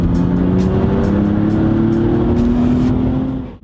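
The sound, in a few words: BMW M2 Competition engine and intake on rally stage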